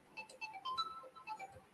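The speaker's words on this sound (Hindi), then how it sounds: "80 से कॉल आ रही है। उठा लो।" A phone rings with an incoming call: a faint, repeating electronic melody of short, high tones in a quick pattern, played softly with no talking over it.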